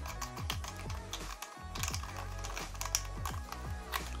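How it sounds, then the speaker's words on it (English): The base part of a Pelonis 30-inch oscillating tower fan is unscrewed by hand, giving rapid, close ratcheting clicks that repeat steadily throughout with one brief pause. "So what you guys want to do is unscrew this part right here."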